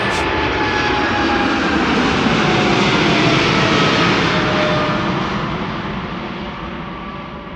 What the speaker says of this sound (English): Turkish already rotating relatively early compared with other wide bodies